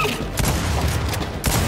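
Muffled booming blast from a grenade in the video game Gears 5, a dense rumbling explosion with a few sharper cracks within, loud and continuous over a short stretch.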